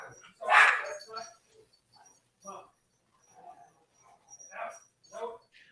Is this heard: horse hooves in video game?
no